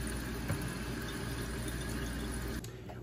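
A paintbrush being rinsed in a container of water, giving a steady close swishing and trickling wash that runs without pause, with a brief slosh near the end and no talking.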